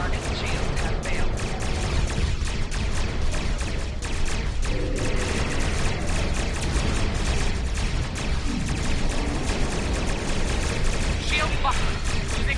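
Starship weapons in a space combat video game fire continuously at a target, a dense loud barrage of rapid blasts and crackling impacts that fills the whole stretch without letup.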